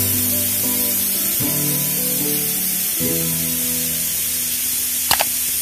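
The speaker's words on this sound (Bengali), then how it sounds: "এবার প্রেসার কুকারের ঢাকনাটা লাগিয়ে দিয়ে আমি 4টি সিটি দিয়ে নেব।" A pressure cooker of mutton kosha, a spicy Bengali mutton curry, lets out a loud steady rush of steam with a wavering whistle that shifts pitch several times, ending in a brief click.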